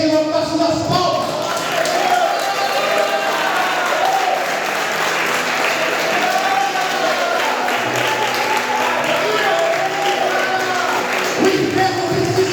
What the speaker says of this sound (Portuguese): Celebre ao Senhor com as suas palmas.